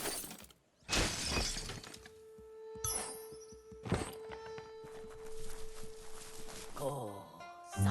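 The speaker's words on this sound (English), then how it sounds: "You shouldn't worry about smashing up the box." A wooden box is smashed in the video game Biomutant, a sharp breaking crash followed by more cracking, thudding debris hits over ambient game sound and music tones.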